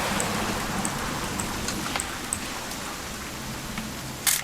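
Rain pouring down with a continuous hiss and scattered distinct drip ticks, close and steady, ending in a brief louder patter, no one speaking.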